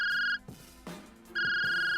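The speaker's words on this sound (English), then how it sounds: "As soon as I left, I got a phone call from a random number." A phone rings with an incoming call: two bursts of an electronic ringtone with steady high tones, clear and close, separated by a short gap of faint room noise.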